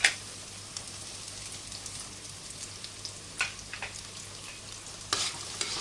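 Garlic frying in a pan for a low-fat chicken Manchurian, a soft continuous sizzle with a few sharper spatula taps and stirring scrapes scattered across, no talking.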